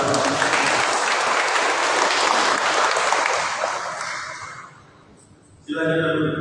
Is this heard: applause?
yes